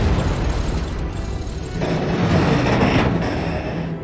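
An explosion strikes a land battleship in the Valkyria Chronicles video game, a loud sustained rumbling blast that swells partway through with gritty debris-like noise and no talking.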